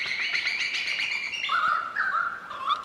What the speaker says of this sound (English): let that bird go past.